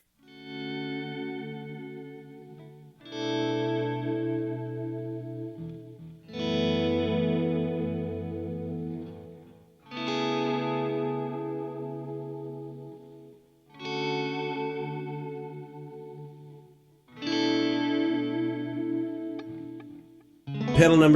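Electric guitar run through an M9 multi-effects unit with delay, rotary, reverb and chorus, six sustained chords each ringing out and swirling before fading, played alone with gaps between.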